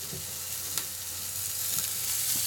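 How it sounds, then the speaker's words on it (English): Mushrooms sautéing and browning in a pan give a steady, close sizzle with light crackle and an occasional soft stir, holding even throughout with no voices. "that is how you saute a mushroom"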